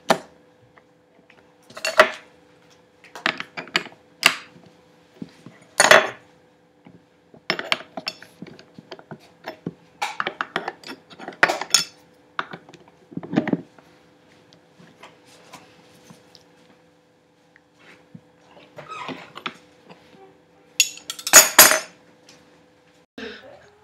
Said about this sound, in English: We're going to use 2 wrenches to tighten it, and we want it very tight.